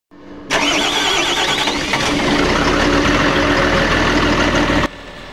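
A Volvo backhoe diesel engine, repaired after a cranking-but-no-start fault and a replaced pressure pump, starts abruptly and runs at a loud, steady rumble close by for about four seconds before cutting off.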